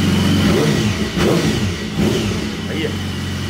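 BMW HP4 motorcycle engine with an open exhaust idling and revving nearby, a rough rumbling note swelling in a few short blips, while someone talks over it.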